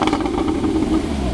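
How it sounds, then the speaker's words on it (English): An engine revs briefly with a rough, clattering exhaust note, held steady and close for a moment. "give it a cheeky little rev"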